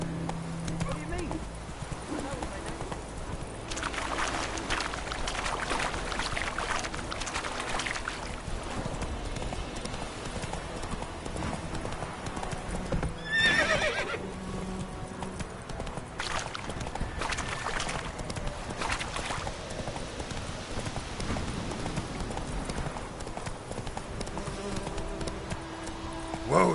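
Roach, the horse from The Witcher 3, galloping with rhythmic hoofbeats that run all the way through, a short whinny near the middle, and people talking over the hooves.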